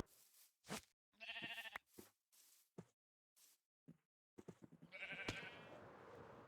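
Blocky sheep in the Minecraft video game bleat in short separate calls, a few brief bleats spaced across several seconds with small clicks and pops between them, fairly quiet and without talk.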